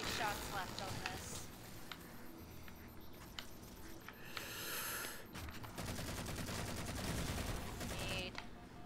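Halo 4 weapon fire in co-op play, rapid bursts of gunshots and sharp cracks scattered across the clip with a sustained run of automatic fire near the end, players talking over it.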